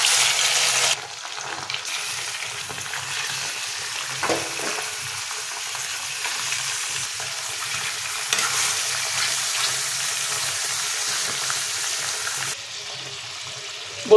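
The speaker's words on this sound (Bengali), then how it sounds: "এবার আমরা এই গরম তেলের মধ্যে দিয়ে দিয়েছি মাংসের টুকরোগুলো।" Chicken pieces sizzle and crackle steadily in hot mustard oil in a wok, a close, continuous frying hiss with occasional stirring scrapes throughout.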